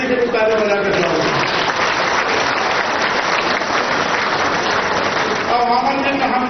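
Audience applause at a public gathering in Chhattisgarh, dense steady clapping throughout with a voice faintly mixed underneath.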